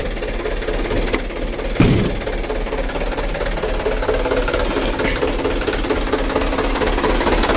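Truck engine running steadily with the cab tilted up, a hot engine fouled with jelly-like oil sludge; a continuous near mechanical drone with one brief knock partway through.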